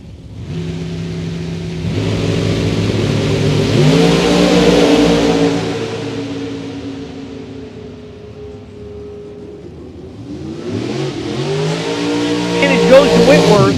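Drag racing launch of an S10 and a Camaro Roadster: engines roar and rise in pitch as the cars pull away, fade, then a second loud revving surge builds near the end, with a crowd and track ambience behind.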